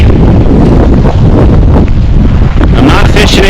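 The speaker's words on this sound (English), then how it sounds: "As you can see, it's quite windy." Strong wind buffeting the microphone on an open lake in Algonquin Park while paddling, a loud continuous roaring rumble with gusty swells throughout and faint water movement beneath.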